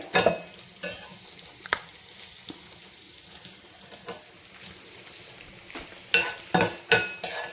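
Chilli bajji filling ingredients fry in a pan with a soft, continuous sizzle, broken by sharp spatula scrapes and clatters that grow louder and more frequent toward the end. No one speaks.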